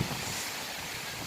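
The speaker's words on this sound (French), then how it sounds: "le vent est de plus en plus fort" Strong wind during a cyclone roars as a steady, dense rush of broadband noise that buffets the microphone, with no voices.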